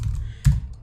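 A single keypress on a computer keyboard, the enter key, lands as one sharp, close click with a low thump, set against a quiet indoor background.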